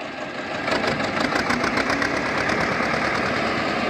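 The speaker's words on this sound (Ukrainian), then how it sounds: "Включив передачу першу і почолигав." A tractor towing two heavy harrows on a homemade hitch runs in first gear, its engine rising from a low idle to a steady, rough mid-pitched drone with rhythmic knocking, close and loud.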